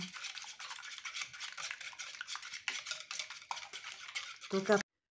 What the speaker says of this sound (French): maintenant on va mélanger les œufs et le sucre